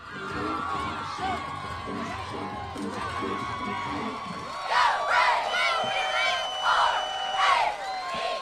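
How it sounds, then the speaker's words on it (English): Football crowd at a stadium cheering and whooping, a loud continuous roar of many voices that swells into louder bursts of shouting toward the end. "And the crowd goes wild!"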